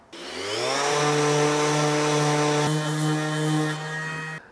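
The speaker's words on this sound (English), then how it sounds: "before gluing them together, I'm going to give them all a sand down" A power tool sands the cut wooden sides of a handmade card box with a steady, loud motor whine. It spins up quickly, holds an even pitch for about four seconds with a slight shift midway, then cuts off. There is no talking.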